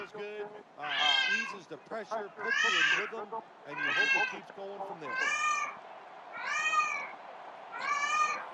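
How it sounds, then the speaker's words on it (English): A house cat meows and cries repeatedly, about seven drawn-out wailing calls in a steady rhythm, fairly close and clear over a quiet background. "Forgive the cat in the background."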